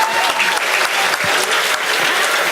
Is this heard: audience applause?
yes